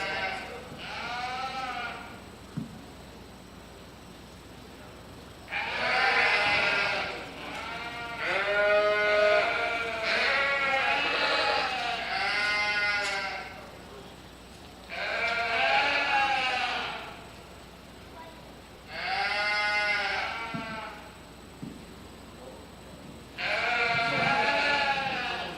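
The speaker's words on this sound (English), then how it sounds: "Real strong yearly ewe here in Southdown class." Southdown sheep, including a yearling ewe, bleat in a county fair livestock show ring, with five loud clustered bursts of calls separated by quieter gaps of faint background noise.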